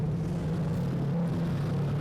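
Street stock race cars at Manjimup Speedway during an A-main championship race, a steady, loud engine drone with a strong low hum held throughout.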